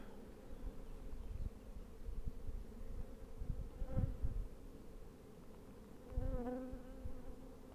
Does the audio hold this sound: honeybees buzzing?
yes